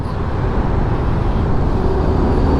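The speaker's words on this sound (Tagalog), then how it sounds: "Grabing traffic doon sa service road." Heavy road traffic on a service road near the Sukat crossing, recorded from a motorcycle: a dense, steady rumble of engines and road noise that stays loud and even throughout.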